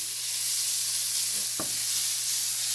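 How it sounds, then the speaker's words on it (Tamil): Leeks sautéing in a pan give a steady, close hiss of frying, broken once by a single short knock of a utensil against the pan, with no voices. "லீஸ் போட்டு சாதுவாக வதங்கினா காணும்"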